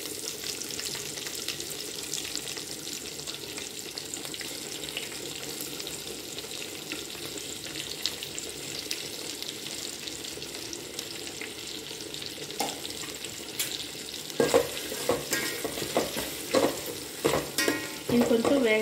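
Onions and green chillies frying in a hot pan for pudina rice, a steady close sizzle with stirring scrapes that grow louder and busier toward the end.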